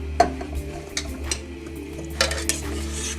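Macaroni being stirred slowly with tomato sauce and ricotta, a spoon giving a few soft scrapes and clinks against the pot amid faint wet squelching, close and quiet with no talk.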